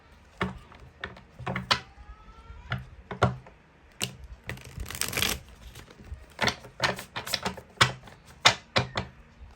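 Tarot cards are drawn and handled from a deck, with a series of soft, crisp snaps and flicks spread over several seconds, close and fairly quiet with no talking.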